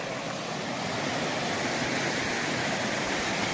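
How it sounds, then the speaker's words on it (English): Rapids rushing along Rapid River during a spring hike, swollen water making a loud, steady, unbroken roar close by, no voices. "So going along the rapids here."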